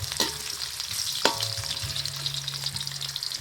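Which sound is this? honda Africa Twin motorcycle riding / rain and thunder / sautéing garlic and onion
sautéing garlic and onion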